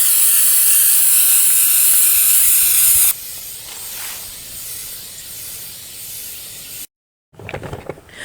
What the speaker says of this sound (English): We're going to spray both of them to put a base coat of white on the entire mat.